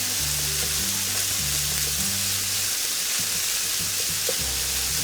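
Ground meat fries in a pan, a steady loud sizzle running throughout, broken by the scrape and clack of a utensil stirring and breaking up pieces in a regular rhythm, with no talking.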